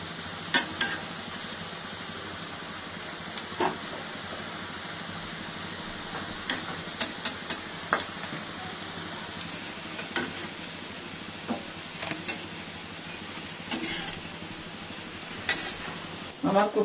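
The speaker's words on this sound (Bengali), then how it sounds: "কোপ্তাগুলো প্রায় ভাজা হয়ে গেছে" Raw banana koftas frying in oil give a quiet, continuous sizzle, punctuated by scattered clicks and utensil taps and a few louder knocks near the end.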